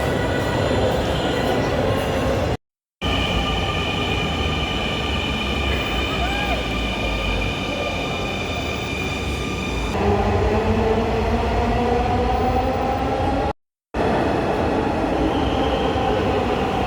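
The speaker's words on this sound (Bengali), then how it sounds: "তো আমরা যে ট্রেনে উঠবো সেই ট্রেনটা" A metro rail train runs steadily, a loud continuous rumble with rising and falling wheel whine and squeal throughout, heard from inside or close by with brief gaps.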